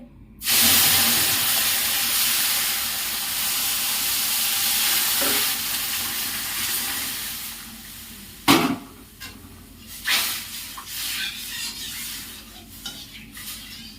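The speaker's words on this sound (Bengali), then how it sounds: "ঘিয়ে সুজিটা আমি লালচে করে ভেজে নিয়েছি, এই পর্যায়ে দুধটা ঢেলে দেবো" Milk is poured into semolina fried reddish in ghee and stirred. A loud, steady steaming hiss rises abruptly and holds for several seconds, then gives way to quieter scraping strokes and a few sharp clanks of a spoon against the pan.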